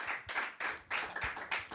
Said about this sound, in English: let's give a round of applause once again to Tobias, Javina, Luke, and Courtney